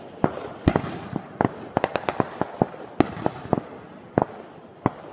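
Fourth of July fireworks burst repeatedly in sharp, loud cracks and pops at irregular intervals, some in quick clusters, echoing over a quiet outdoor background.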